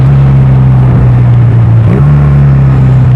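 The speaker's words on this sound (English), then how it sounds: "You're just blipping the throttle every time you downshift." A Honda Rebel 250 motorcycle engine drones loudly up close, then dips and jumps in pitch with a quick throttle blip during a downshift before settling back into a steady hum.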